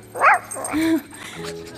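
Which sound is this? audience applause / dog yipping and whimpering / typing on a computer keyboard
dog yipping and whimpering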